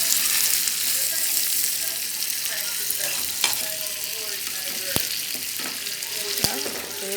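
Tinned mackerel and sardine sizzle in a frying pan with a dense, steady hiss up close, broken by a few sharp clicks and spatters.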